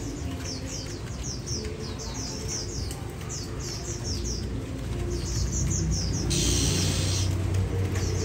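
Oriental magpie-robin singing repeated bright whistled phrases in quick bursts, close and clear over a steady low background hum, with a brief burst of noise near the end.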